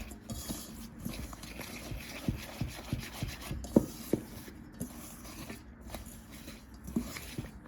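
Rice flour mixed with turmeric powder by hand in a bowl gives soft, close rubbing and scraping sounds in an uneven rhythm, with a few sharper taps against the bowl.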